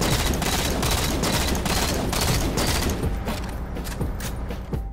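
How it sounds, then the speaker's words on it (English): A Halo 4 battle rifle fires in rapid bursts in the video game, a continuous loud, bright, electronic-edged chatter of shots that thins out near the end. "I'm not a huge fan of the battle rifle sound design. It just sounds too electronic and high-pitched"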